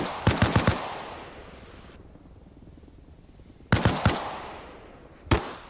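Gunfire in a video game comes in loud, rapid automatic bursts, a quick cluster at the start, then a quieter gap, another burst later and a final single shot.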